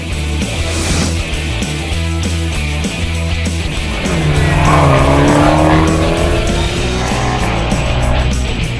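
Abarth cars race hard down the front stretch of a racetrack, engines roaring loud and steady with rising revs and tire squeal, close to the listener.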